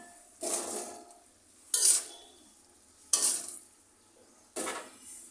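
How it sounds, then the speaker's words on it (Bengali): Taro stolons being stirred with spices in a pan over raised heat, four separate scraping, sizzling stirs spaced about a second apart, close and fairly quiet, with no speech. "লতিগুলোকে মশলার সাথে ভালো মতো কষাবো, ভালো মতো মিশিয়ে এটাকে কষিয়ে দিই।"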